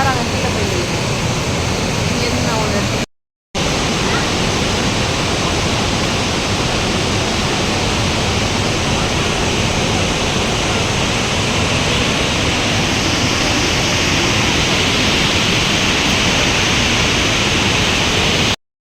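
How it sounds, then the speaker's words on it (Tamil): Cumberland Falls in Kentucky pours as a loud, steady roar of rushing water, close and constant, broken by one brief gap of silence near the start. "பின்னாடி அந்த அருவி கொட்டுறது எவ்வளோ அழகாக இருக்குது பாருங்களா"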